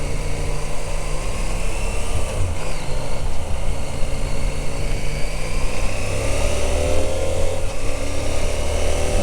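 A CF Moto 800MT motorcycle accelerates with a loud, continuous engine drone under heavy wind buffeting, the pitch rising and settling as it gains speed.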